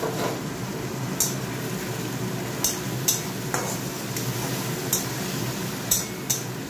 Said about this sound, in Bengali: এটা কষিয়ে নিই।